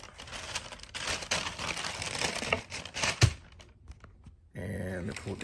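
Speckle paper crinkles and rustles as a box of Air Jordan 4 Thunder sneakers is unboxed, dense crackling up close that thins out, followed by a brief voice.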